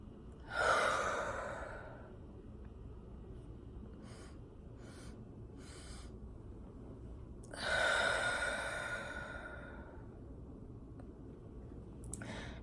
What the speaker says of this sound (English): Really exhale out.